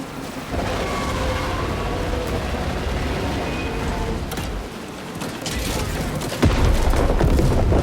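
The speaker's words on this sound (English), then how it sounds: "Detonate the charges now" Detonated charges going off in the Warhammer 40k: Space Marine 2 video game, a loud, sustained rumbling roar of explosions with heavy low booms and a sharper blast surging near the end.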